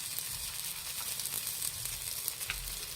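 Oil sizzles steadily around a ragi rotti on a hot pan during village-style cooking, a close, even crackle that continues with no voices.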